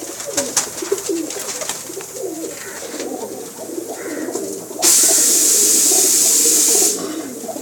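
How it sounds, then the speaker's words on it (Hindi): Pigeons coo softly and repeatedly, close by, with a burst of running water hissing partway through. "बहुत नायाब कबूतर हैं जी"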